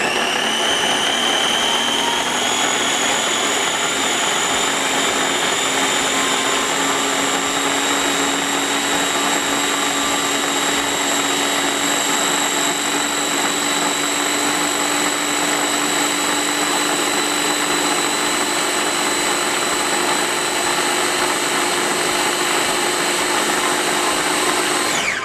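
Chimichurri sauce ingredients are ground in an electric appliance, giving a continuous, loud, high-pitched motor whine that holds steady for about 25 seconds without pause.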